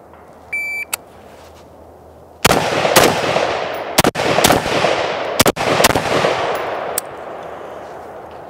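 Pistol shots ring out in a shooting drill at targets, a rapid string of about eight loud, sharp cracks close by after a short beep and a quiet pause.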